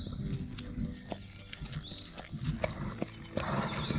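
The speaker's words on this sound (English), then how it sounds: "my mother whinnied to me to come to her" A horse's whinny rises briefly among steady hoof clip-clops and low rustling, fairly close, with no talking.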